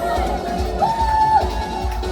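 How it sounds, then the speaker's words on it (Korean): A crowd cheers and whoops steadily at a concert held at a welfare center for people with disabilities, a broad, sustained roar with a brief tonal whoop rising over it midway. "나나게살 여러분 박수 박수 못나게 살 거야 박수"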